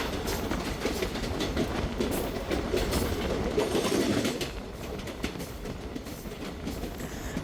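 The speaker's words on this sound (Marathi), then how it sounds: "शेवटी सुटली ट्रेन आणि आता आपण चाललो आहे वैभववाडीच्या दिशेने. भरपूर स्पीडमध्ये एकदम." A Konkan Railway passenger train runs at speed, a steady loud rumble of wheels on track with rapid rhythmic clatter, heard from inside the carriage with no talk.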